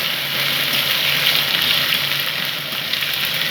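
Tomato frying in spiced, tempered oil in a pan, a steady, loud, close sizzle with constant crackling hiss and no voices.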